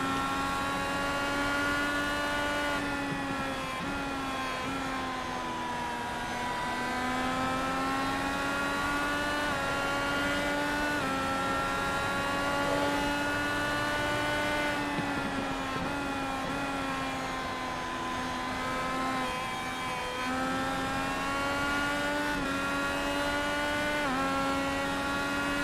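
Onboard with the number 10 race car during a race, the engine drones loud and continuous, its pitch rising and falling through upshifts and corners for the whole stretch, with no talking.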